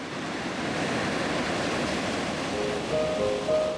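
Cold Atlantic-side ocean surf at a sandy beach near Cape Town washes in as a constant, full rushing roar, with a few thin high whistling tones rising over it toward the end.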